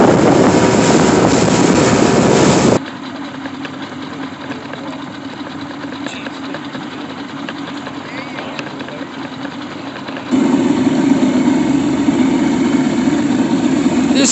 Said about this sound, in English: This old outboard to the rescue!